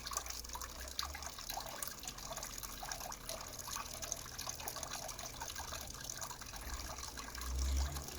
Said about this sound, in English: the water is just trickling away